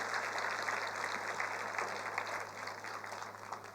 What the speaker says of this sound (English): a big round of applause for our presenters